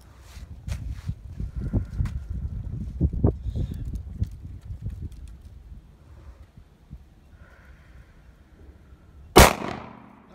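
A single sharp gunshot from a .40 Smith & Wesson M&P semi-automatic pistol with Trijicon sights cracks near the end, following muffled outdoor handling noises and low rumble.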